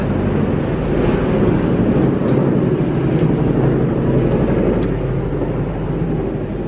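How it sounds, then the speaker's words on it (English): A helicopter passes close overhead, a loud, steady rumbling engine drone filling the whole stretch as a low continuous roar, with no voices. "here comes that helicopter."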